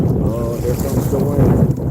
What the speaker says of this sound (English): Carla, I'm trying to paddle over there, but the wind keeps pushing me back.